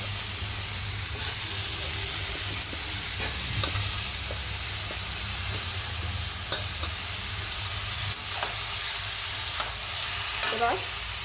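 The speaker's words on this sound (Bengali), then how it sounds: "এবার আমি এই ঝিঙেগুলো এবার দিয়ে দেবো।" Sliced ridge gourd with green chillies frying in hot oil in a pan for a Bengali thali, a steady loud sizzle broken by occasional stirring scrapes, with no talking.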